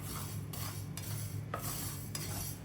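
Spices sizzling and being stirred in a pan on low flame for mango pickle, a steady soft frying hiss with light scraping of a spoon against the pan, no talk.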